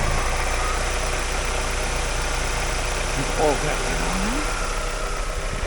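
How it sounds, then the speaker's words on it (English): A 2002 Mazda Miata NB engine idling at a wrecking yard, a steady low even hum close by, with a brief faint higher sound partway through. "Motor's nice and quiet. Not a crazy amount of blow by."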